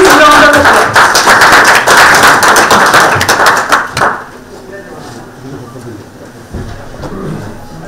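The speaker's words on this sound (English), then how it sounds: "Please round of applause." Audience applause at a Kerala State session of the World Food India 2023 conference: loud, dense clapping from a large crowd for about four seconds, then fading to quieter room noise with a few scattered claps.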